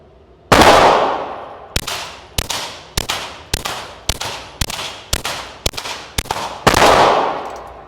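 Glock 44 pistol with a Huxwrx 22 Ti suppressor emptying a ten-round factory magazine at a range: sharp, close, suppressed cracks in a quick, fairly even series of about ten shots, each with a short ringing tail.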